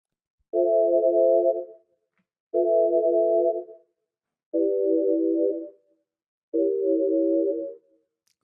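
A synthesized sine wave tone dressed with reverb and chorus plays as four evenly spaced sustained notes, each about 1.3 seconds long. The notes are moderately loud with soft reverberant tails and no speech.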